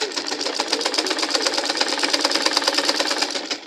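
A sewing machine runs steadily, stitching lycra dress fabric with a fast, even mechanical rattle that stays close and continuous with no voices.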